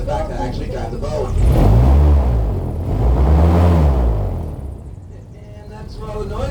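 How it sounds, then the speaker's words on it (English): Loud roaring airboat propellers rising and falling in two big swells, a deep rumbling drone with a whooshing edge, close by, in the Florida Everglades. "It's not the engines you hear, it's the props."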